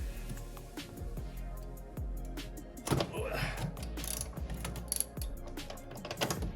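A hand ratchet clicks steadily while loosening bolts on the exhaust V-clamp of an Audi RS5 during a downpipe install, with close rhythmic pawl ticks and some metallic knocks in the middle.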